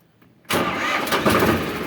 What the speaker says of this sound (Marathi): बघूया चावीनं चालू होते का ट्रॅक्टर.